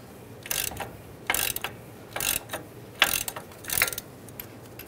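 A hand ratchet with a 21 mm socket loosens a nut on the front suspension of a 2011–2018 Ram 1500 during a wheel bearing and hub replacement, giving five close, rhythmic bursts of rapid clicking with short pauses between strokes.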